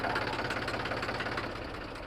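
A tractor engine idling near a worksite where soil is being hauled, a steady low knocking rumble with an even pulsing rhythm, close and continuous with no talk.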